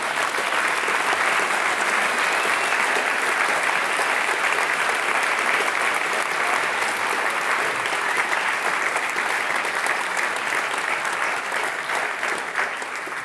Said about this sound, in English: Let's give a big round of applause for this accomplishment.